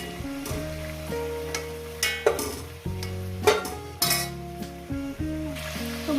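Chicken for a Punjabi-style chicken curry is lifted from a frying pan, with soft sizzling, stirring scrapes and a few metal clinks from the utensil, all under steady background music.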